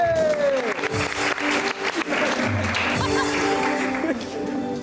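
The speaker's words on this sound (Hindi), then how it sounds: "चलो चलो उज़मी की भी तालियां बजाइए।" A studio audience on an entertainment show applauds a contestant named Uzmi, a dense, continuous round of clapping mixed with the host's talking and some music.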